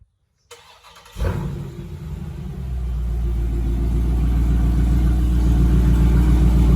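A Dodge Charger Scat Pack cranks and fires up, then settles into a deep, loud, steady rumble that slowly builds as it idles close by.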